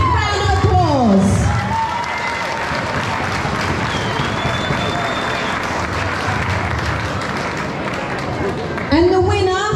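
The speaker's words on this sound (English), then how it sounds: "give them a big round of applause" Ringside crowd at an amateur boxing bout claps and cheers in a loud, sustained burst of applause, with an announcer's voice heard briefly before and after.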